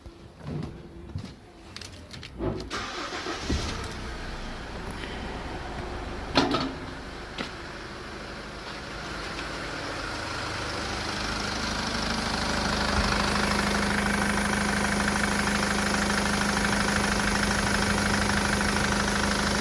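A SsangYong Musso engine cranks with a few clunks and bursts, then catches and settles into a steady, close idle that grows slightly louder and holds to the end.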